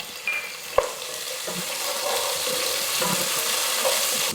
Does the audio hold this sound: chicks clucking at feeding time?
no